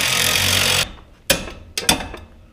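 Chicago Electric power tool hammering on bolts during Ford Mustang GT engine removal: a loud, sustained rattling burst, then a pause and three short, sharp hammering bursts, close up.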